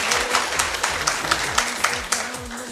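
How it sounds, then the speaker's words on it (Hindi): A crowd applauds steadily at a motivational talk, dense clapping with a few louder claps standing out, moderately close and continuous. "सर के लिए तालियां बजा दो यार"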